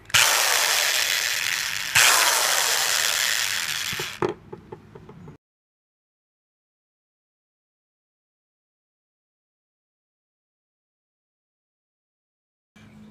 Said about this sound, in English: it's slowly filing away at the copper